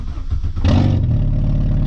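A VW Corrado's 2.0 2E engine with an open header blips up from a low rumble into a loud, close rev that then settles into a steady elevated drone, with no talking.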